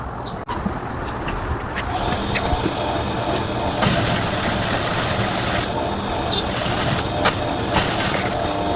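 A sewing machine runs continuously while stitching the side seams of a fabric flare top, its motor hum a steady drone throughout.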